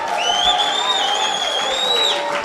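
A large church congregation cheers loudly at a bishop's consecration service, with continuous crowd noise and high whoops and cries rising above it throughout.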